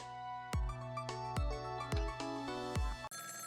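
A telephone rings in the video game Ghost Trick: Phantom Detective, with five bright, evenly spaced chime-like rings forming a melodic ringtone, close and clear, then cut off abruptly.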